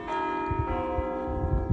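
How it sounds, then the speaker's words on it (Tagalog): A church bell near a castle in Switzerland rings with a sustained, resonant tone that fills the short moment, while faint knocks and rustles sound underneath. "Tumunog ng kampana."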